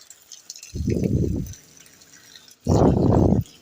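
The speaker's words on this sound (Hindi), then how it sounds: "और यहाँ पर भी हम दे रहे हैं पानी" Water is poured onto potted plants at home in two short bursts, each a steady splashing gush lasting under a second, close by, with quiet pauses between.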